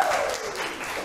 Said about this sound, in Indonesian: Wawan, tepuk tangan buat Wawan dulu.